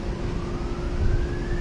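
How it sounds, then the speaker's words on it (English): Emergency sirens wail at a distance through stormy weather, a steady thin tone holding over a dense rumble of wind and rain. "We got all kind of sirens out there going on."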